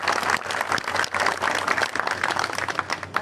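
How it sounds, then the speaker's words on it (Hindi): A crowd at a Gahlawat khap gathering claps loudly in welcome for honored guests, a dense, lively stretch of many hands with uneven surges, close and continuous. "जोरदार तालियां बजाएं"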